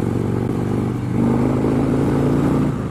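A 2017 Harley-Davidson Street Glide motorcycle with a Stage 1 Screaming Eagle upgrade rumbles steadily and climbs in pitch as it accelerates to about 60 mph, loud and close, with wind buffeting.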